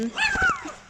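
A dog near a railway level crossing gives a single brief, whining yip with a high, sliding pitch, fairly close and clear.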